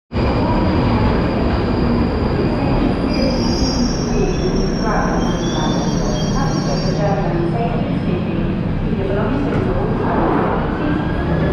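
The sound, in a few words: train arriving at Charing Cross station, London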